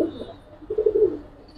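Male pigeons cooing in a loft of breeding birds, a low throaty coo swelling in the second half, close and moderately loud over faint background noise.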